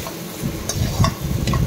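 Potatoes fry in oil in a pan while being stirred, a close, steady sizzle broken by several scraping strokes of a spoon against the metal, with no talk.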